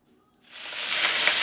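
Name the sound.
chicken frying in hot oil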